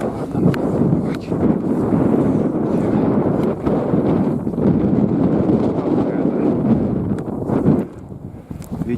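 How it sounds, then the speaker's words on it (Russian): Strong wind in the taiga roars and buffets the microphone in a continuous low rumble, loud and gusty throughout, with a faint voice partly buried beneath it. "Ветер сильный."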